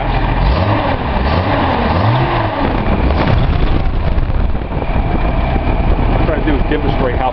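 A Datsun L28 fuel-injected engine with a colour-tune plug runs steadily and rises slightly as a little throttle is given, a loud continuous drone with some wind buffeting on the microphone.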